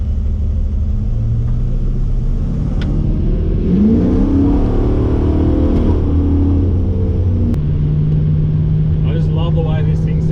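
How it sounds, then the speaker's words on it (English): A Ford XG Ute's engine revs hard on a cruise, a loud, close, continuous rumble that climbs in pitch midway, then settles into a steady high drone. "I just love the way this thing sounds when I'm revving the absolute shit out of it."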